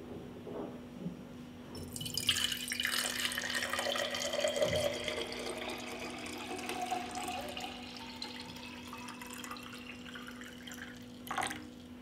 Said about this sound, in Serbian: Prvo što radim, vodu sipam u čiste tegle.